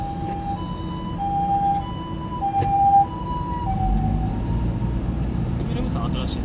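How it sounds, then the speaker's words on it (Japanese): A two-tone ambulance siren alternates high and low over a steady road rumble, fairly close, on a road in Kumagaya, Japan, with faint muffled sounds in the background. "ちょっと救急車来ちゃいましたね。"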